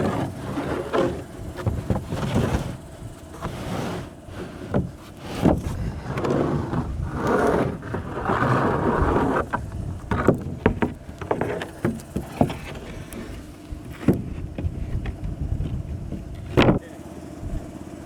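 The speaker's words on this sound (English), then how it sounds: "Dang, that wind." Wind gusts rumble and buffet across an open house roof during sheathing work, rising and falling, with scattered knocks, thumps and shuffling from the work nearby.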